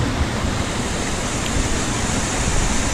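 Waterfalls on the Black Forest Trail, a steady, loud broadband rush of falling water filling the whole clip without pause, close by and unbroken.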